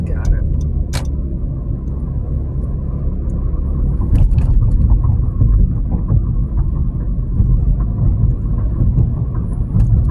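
Steady low rumble of car traffic passing close by, a continuous road drone with a brief swell of passing vehicles midway.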